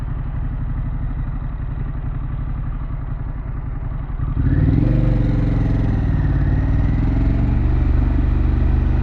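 A Harley-Davidson Pan America motorcycle with Vance & Hines and Akrapovic aftermarket exhausts idles with a loud, lumpy rumble, then revs sharply halfway through and holds a higher, roaring throttle, close up.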